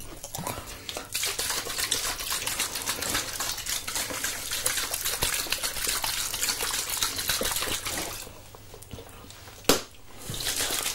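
Water being applied to hair during a salon haircut in an 80s-style salon setting, a steady close spray or splash running continuously for several seconds, then briefly quieter before a sharp knock near the end.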